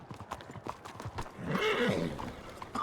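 Hooves clip-clop rapidly as horses move in the Western video game Red Dead, then a loud, drawn-out neigh rises up close and holds for about a second before the hoofbeats carry on.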